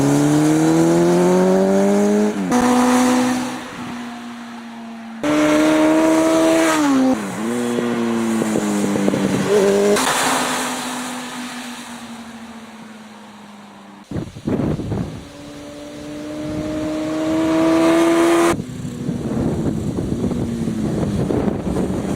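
Motorcycles roar past one after another, each engine note rising and falling in pitch as it approaches and recedes, loud and close with wind buffeting the microphone and no talk.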